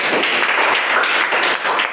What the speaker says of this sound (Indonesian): Tepuk tangan untuk Kusuma Wardana.